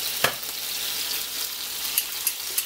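Salmon frying in a pan, a dense steady sizzle with a few sharp pops and spatters, close and fairly loud, no voices.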